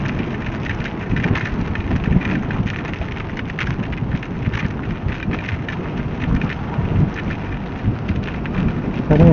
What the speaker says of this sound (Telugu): ఘోరం పడుతుంది వర్షం